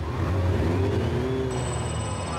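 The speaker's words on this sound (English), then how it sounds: "Two following the leader as they accelerate hard on a deserted runway" Motorbikes accelerate hard along a deserted runway. A loud, steady engine roar rises in pitch and a high whine enters partway through. No one speaks.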